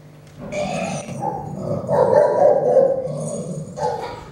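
Dogs bark and yelp in a loud, jumbled burst lasting several seconds, close by, with overlapping voices of more than one animal.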